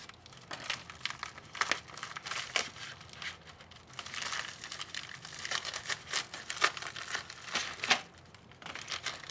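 A plastic mail package being cut open up close, with crinkling, rustling and scratchy crunching bursts of plastic film in an irregular rhythm, fairly quiet and without talk.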